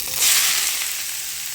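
Chopped cabbage, sliced onion and green chilies with salt hitting a hot pan, a loud burst of hissing sizzle that settles into a steady fry, with no talk.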